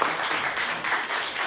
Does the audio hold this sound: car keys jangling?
no